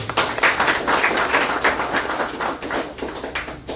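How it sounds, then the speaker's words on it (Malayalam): An audience at a live interactive session breaks into steady applause, a dense rattle of many hands clapping at close range that holds for nearly four seconds. "കൈയടിച്ച് പാസ്സായി"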